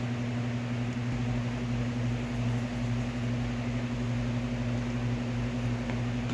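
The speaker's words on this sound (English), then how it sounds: "So I'm going to light my cooker and let it preheat" A lit gas cooker heating a pan of frying oil gives a steady, low roaring hum with faint hiss, constant and unbroken, no voices.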